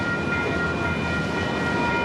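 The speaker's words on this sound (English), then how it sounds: "Hopefully this train will get out of the way so that I could see 113." A mixed freight train rolls past nearby in a steady, dense rumble with a faint high metallic ring, continuous and unbroken.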